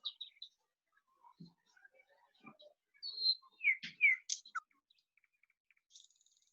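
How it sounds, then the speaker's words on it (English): Birdsong played from a recording: sparse high chirps and whistled notes in a quiet setting, clustering into a brighter phrase of quick sweeping calls midway before trailing off into faint, isolated peeps. "And that's bird song."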